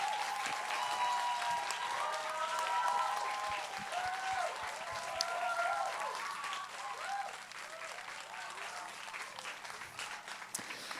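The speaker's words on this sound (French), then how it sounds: "Grosse main d'applaudissements. Tout le monde, tous les parents." Audience at a boys' music concert applauding the parents, a fairly quiet but continuous spread of many hands clapping, with voices and cheers faintly audible through it.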